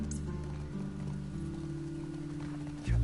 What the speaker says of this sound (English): you're just riding on a horse